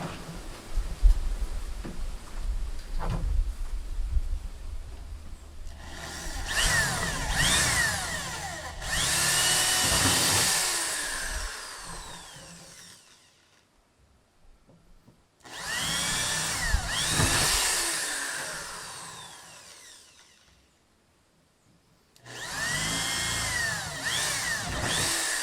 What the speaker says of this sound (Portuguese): a gente vai usar ela aqui para furar, para poder facilitar quando a gente vier com uma broca mais larga